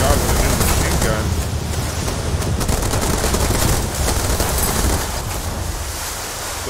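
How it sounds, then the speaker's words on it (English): Machine gun fire in the video game Age of Water: a dense, continuous roar of rapid shots mixed with a washing, surf-like rumble that stays steady and loud throughout. "Oh my god, what a new machine gun."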